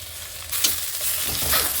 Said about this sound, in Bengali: এখন এভাবে ভেজে দেব